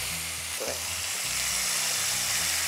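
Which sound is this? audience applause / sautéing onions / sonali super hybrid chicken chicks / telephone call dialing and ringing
sautéing onions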